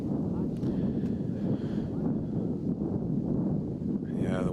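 Wind on an exposed disc golf course, a continuous low rumbling buffet against the microphone that holds throughout, with faint voices in the background.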